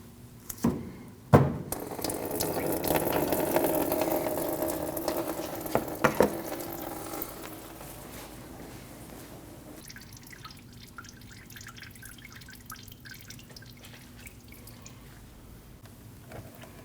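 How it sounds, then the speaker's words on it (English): Coolant drains from the radiator petcock of a 2012-2021 Nissan NV2500 5.6L V8 into a bucket, first as a steady trickling splash for several seconds, then thinning to faint drips against a quiet background. "Fluid will come out at the bottom, so make sure you have a bucket underneath to catch the fluid."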